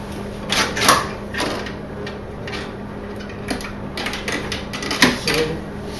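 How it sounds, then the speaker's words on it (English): Plastic clicks and rattles as the door of a Whirlpool refrigerator ice maker is pried loose and pulled off, a few sharp snaps standing out near the start and again toward the end over quiet room noise. "first thing we're going to do is remove this door"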